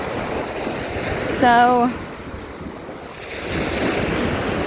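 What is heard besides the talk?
ocean waves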